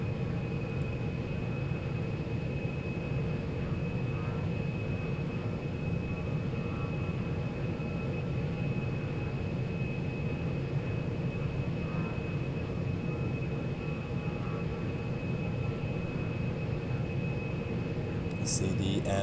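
Steady jet engine roar from an aircraft in the Lock On flight simulator game as thrust is increased on approach to landing at an air base, a continuous broadband rumble and hiss throughout, with a thin constant whine above.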